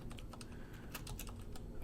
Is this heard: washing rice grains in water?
no